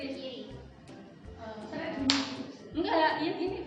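Hands clap in a clapping game at a group guidance session, with several sharp claps scattered among people talking and giving instructions.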